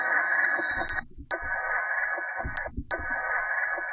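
Radio signals from outer space, a hissing, buzzing band-limited noise with a steady hum that cuts out twice with brief clicks, faint and alone.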